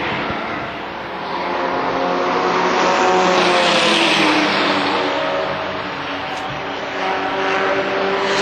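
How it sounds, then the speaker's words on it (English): Race cars battle for position on an oval track, engines droning loudly as the pack sweeps past, the pitch rising and falling in a long pass with layered motor whine. "Chris Jennings trying to pull away while the second and third place cars battle"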